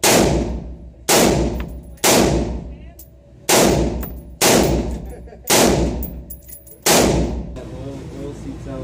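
Rifle chambered in .223 / 5.56 firing seven loud single shots, each sharp crack followed by a decaying echo, spaced roughly one second apart outdoors, with no talk.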